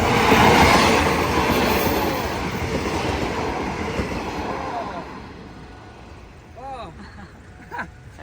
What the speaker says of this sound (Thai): รถไฟมาแล้วพี่น้อง